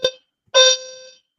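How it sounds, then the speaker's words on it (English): A fire alarm goes off indoors: a short electronic chirp, then a longer, loud, ringing beep that cuts out cleanly after about half a second. "Oh, fire alarm."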